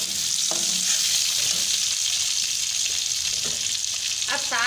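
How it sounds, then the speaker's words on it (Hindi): Okra and thick chillies fry in a pan with a loud, steady sizzle that fills the whole stretch, with a few soft stirring scrapes on top and no talking. "भिंडियों में मोटी मोटी मिर्चें अच्छी लगती है, इसलिए हम थोड़ा सा इसको भी इसके साथ फ्राई करेंगे।"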